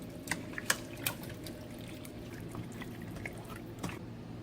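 Water is poured into a pot of base sauce for a Korean spicy chicken stew and stirred in, giving soft splashes, drips and a few sharp clinks of the utensil against the pot over a low background hum.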